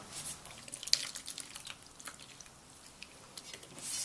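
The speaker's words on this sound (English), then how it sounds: "Now I'm going to add the water." Water poured into two cups of flour in a bowl while making momo dough, heard as faint, scattered drips and small splashes, quiet and close, with no talking.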